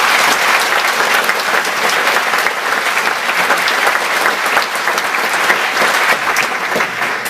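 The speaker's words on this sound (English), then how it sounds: "I'd just like to give her a round of applause." An audience gives a loud, sustained round of applause at a live presentation, dense steady clapping that fills the room evenly from start to finish with no talk over it.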